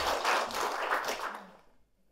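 Encouraging applause from a church talk-show audience, a soft, fairly distant wash of clapping that holds briefly and then tapers away to quiet.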